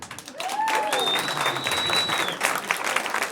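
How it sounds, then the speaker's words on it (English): An audience at a stand-up comedy show applauds, a dense burst of clapping with a few scattered whoops that carries steadily through to the end. "Round of applause, who's in therapy?"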